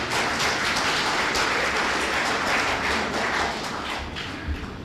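An audience at a Marathi lecture on eradicating superstition claps continuously in a dense, even patter of applause. It stays fairly steady, then thins slightly near the end.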